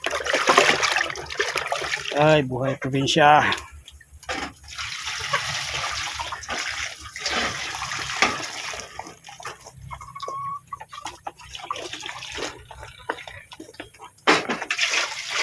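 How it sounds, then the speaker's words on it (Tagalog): Leftover dishwater poured out on a rural farm, a continuous trickling, splashing flow that runs throughout with a person talking over it. "Tapos ay lagyan natin ng tubig."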